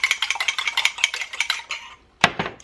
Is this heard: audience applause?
no